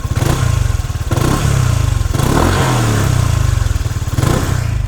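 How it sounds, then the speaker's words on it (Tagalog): A Suzuki Burgman 150 scooter engine revving repeatedly, the exhaust burbling and rising in pitch with each throttle blip, close and fairly loud with no talking. "Ang tahimik ng makina tsaka ng pipe."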